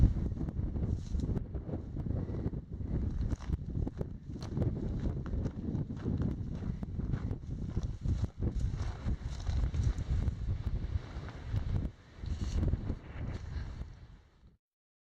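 Gusty wind batters the microphone on a desert mountain summit in Tucson Mountain Park, heavy low rumbling buffets rising and falling for the whole stretch before dropping away at the end.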